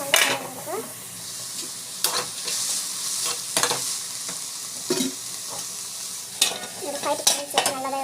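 Mint chutney ingredients sauté in a pan with a close, steady sizzle, broken by repeated spoon scrapes and knocks against the metal.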